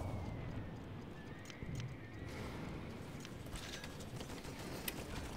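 Horses gallop in the Toy Soldiers video game, a low steady clatter of hooves mixed with mechanical game noise at a modest level, with no speech.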